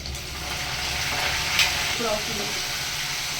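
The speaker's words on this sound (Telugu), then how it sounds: "ఫస్ట్ అయితే పోపు ఆయిల్ పోసుకున్నా ఎండుమిర్చి వేస్తున్నా" Dried red chillies, mustard seeds and cumin sizzle in hot oil for a tempering, a close, steady frying hiss with brief crackles and a scrape of stirring, no voice present.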